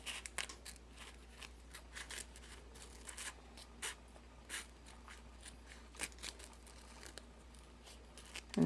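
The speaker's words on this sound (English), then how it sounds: "and snip it, alrighty, that'll give me an opening to somewhat cut it" Scissors snip and trim a plastic lid from a 24 ounce rhinestone tumbler, heard as faint, close, irregular crisp cuts and crinkles scattered across a quiet background.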